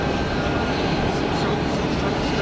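A jet aircraft at Geneva Airport gives off a steady, fairly loud engine roar with no break for the whole short stretch. Voices may blend faintly into the noise.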